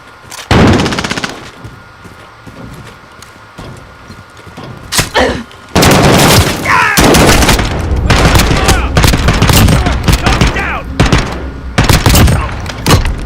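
Gunfire in the Modern Warfare video game, with loud bursts of rapid automatic fire and sharp shots that grow into near-continuous shooting, mixed with impacts and clatter, while voices call out over the fighting.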